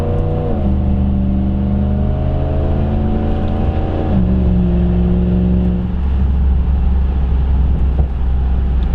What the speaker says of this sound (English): you guys are gonna get the nice little exhaust note here